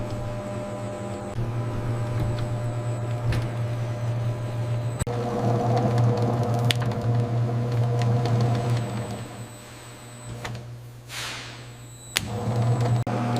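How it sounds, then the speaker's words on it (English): Industrial mixer paddles churn banana bread batter in a factory, a steady low mechanical hum and drone with rising rhythmic motion, continuous and fairly loud, with a brief dip near the end before resuming. "Mixer paddles gradually build rhythm"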